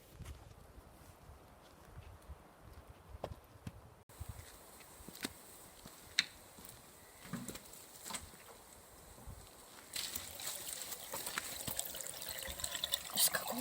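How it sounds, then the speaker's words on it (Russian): Natural spring water in the Leningrad region trickles and gurgles softly and steadily outdoors, with faint footsteps and some handling noise nearby, growing a little louder toward the end. "Живой ключ."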